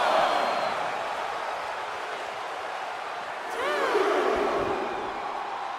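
Wrestling arena crowd in WWE 2K24 roaring steadily as Johnny Gargano hypes them up, a loud dense wash of cheering that swells a little toward the end.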